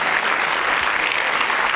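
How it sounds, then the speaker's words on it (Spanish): A comedy club audience claps loudly and densely for comedian Pomareta after his stand-up monologue, a steady wash of applause filling the short stretch without pause. "Aplauso fuerte para Pomareta"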